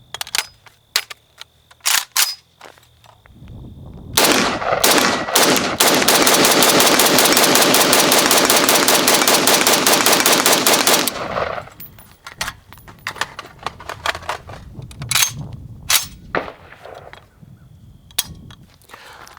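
FN FNC 5.56mm rifle fired with its stock folded: a long sustained automatic burst of rapid, loud shots lasting several seconds, framed by scattered single clicks and handling noises before and after.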